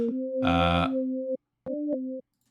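Sine-wave tones from FL Studio's 3x Osc synth, one oscillator tuned to 24 and two to 12, with a light flanger, play a steady two-note chord that sustains for over a second, briefly thickens, then cuts off and returns for a shorter burst.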